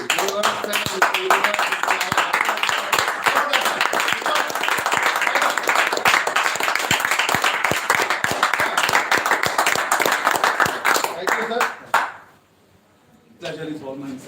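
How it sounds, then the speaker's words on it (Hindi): An audience at a personality training session applauding a guest, a dense continuous burst of clapping for about twelve seconds that cuts off abruptly, followed by a brief pause and then someone speaking. "जोरदार तालियां मिस्टर सुमित पांडे जी के लिए"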